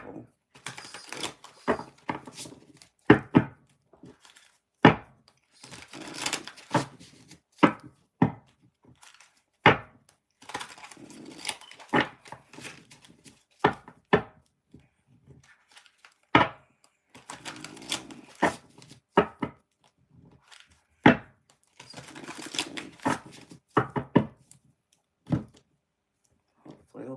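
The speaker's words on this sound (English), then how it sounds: "Oh, this deck don't want to shuffle." A deck of tarot cards is shuffled by hand at close range, producing irregular sharp snaps and soft riffling bursts separated by short pauses.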